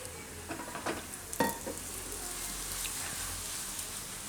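Raw papaya pudla, a Gujarati savory pancake, fries in a little oil in a pan over medium gas, giving a soft, steady sizzle with a few light scraping and tapping sounds as it is turned.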